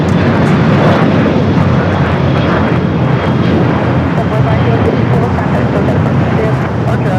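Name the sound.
Boeing 787-9 Dreamliner jet engines at LAX airport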